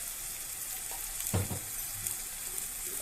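Chopped tomato sautés with turmeric in a pan for a Kerala-style potato curry, a soft steady sizzle with a brief burst of stirring and hissing near the middle.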